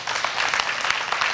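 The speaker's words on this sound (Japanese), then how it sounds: "大きな拍手して" Congregation applause at a church gathering, a short burst of brisk clapping filling the room, fairly loud and close.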